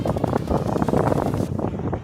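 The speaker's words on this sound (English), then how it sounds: "I know it's windy out here." Steady wind buffets the microphone outdoors, a loud rumbling gust that eases slightly toward the end.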